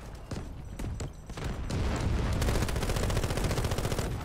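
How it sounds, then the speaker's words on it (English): Heavy grenade explosions and sustained gunfire in the shooter Delta Force Hawk Ops, starting as scattered shots and building into a dense, loud barrage of overlapping blasts and rapid fire. "that's nades!"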